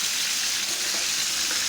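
Chapli kababs frying in a pan of hot oil, giving a steady, dense sizzle that holds evenly throughout at close range with no talking.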